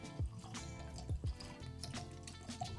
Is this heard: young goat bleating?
no